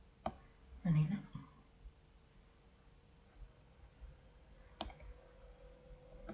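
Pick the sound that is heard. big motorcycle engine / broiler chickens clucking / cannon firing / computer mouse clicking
computer mouse clicking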